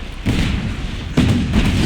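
Explosions in the video game Just Cause 3: two heavy, close booms, each followed by a rumbling roar, the second one louder.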